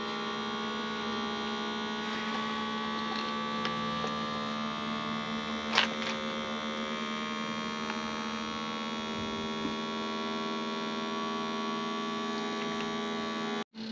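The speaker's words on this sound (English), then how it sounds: "it's a little pump, a little fluid pump. We're going to see how well it works." A small fluid pump in an RV runs with a steady electric hum and whine that holds for the whole stretch, with a faint click near the middle and a sudden cutoff at the end.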